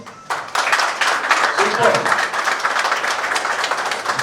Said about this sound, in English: Then support team, you have to clap for yourself.